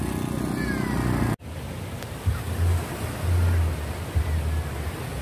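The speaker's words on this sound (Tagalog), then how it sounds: "Yan ang alon dito sa Bagasbas." Steady roar of surf washing onto the beach at Bagasbas, broken by a brief dropout, with low rumbling surges rolling in.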